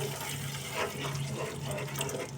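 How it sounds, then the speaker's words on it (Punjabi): Milk is poured into simmering shahi paneer gravy, giving a steady, close liquid pouring and splashing sound with no talk. "ਫਿਰ ਇਹਦੇ ਵਿੱਚ ਆਪਾਂ ਪਾਣੀ ਦੀ ਜਗ੍ਹਾ ਦੁੱਧ ਐਡ ਕਰਾਂਗੇ"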